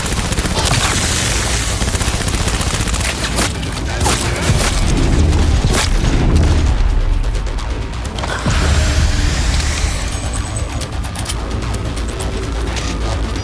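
Combat in the video game Cyberpunk 2077, with sustained loud bursts of automatic gunfire and booming explosions layered over a dense action soundtrack, continuous and close throughout.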